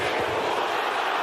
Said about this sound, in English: the crowd chanting support for Usyk as Dubois backing up